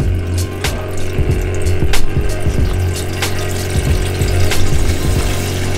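A water supply pump in a Hiace Commuter camper van conversion hums steadily while water flows from the tap, a continuous near, fairly loud whir and splash with a few sharp clicks along the way.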